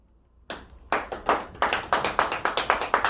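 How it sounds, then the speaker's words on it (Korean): A few people clapping nearby, starting with scattered single claps and building into a brisk, fairly regular run of sharp hand claps in a quiet room. "박수는 사절하겠습니다."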